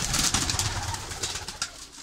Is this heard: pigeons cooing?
yes